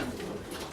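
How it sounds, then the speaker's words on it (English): Pigeons cooing in a pigeon loft in Malta, soft low throaty coos close by amid a busy, rustling background. "There are also baby pigeons like this one, who is only 4 days old, so he can't fly yet."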